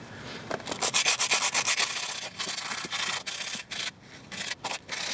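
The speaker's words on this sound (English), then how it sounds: "we're going to move on to the sanding with sandpaper." Hand sanding of rusty brake calipers with 230 grit sandpaper, a dry scratchy rubbing that moves in quick repeated strokes, then slower uneven passes with short pauses, close up with no talking.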